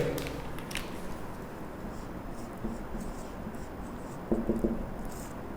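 Marker or chalk scratching notes onto a board in an electrical machines lecture, a soft continuous scrawl with brief clustered strokes near the end, alone in a roomy space.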